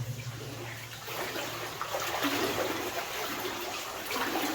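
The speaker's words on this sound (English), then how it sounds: "I can hear a waterfall." Steady rushing water from a waterfall heard inside an old mine, a constant broadband hiss that swells slightly midway and continues without pause.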